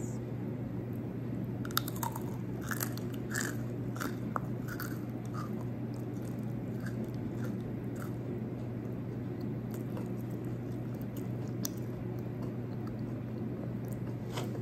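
Crunchy pretzels dipped in hummus are bitten and chewed up close, with soft irregular crunches and wet chewing over a steady low background hum.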